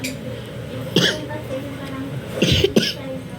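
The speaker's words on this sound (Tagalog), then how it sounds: "medyo may ubo ko" Two short, harsh coughs close to the microphone, the second a quick double burst, over a quiet background hum.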